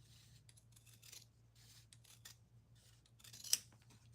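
Scissors snip fabric at the corners of a sewn vest, a single crisp cut standing out against a quiet background hum.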